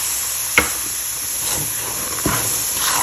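Semolina roasting in a pan for halwa, giving a steady soft hiss with a few sharp scraping stirs of a spoon against the pan at intervals, close and fairly loud, with no voices.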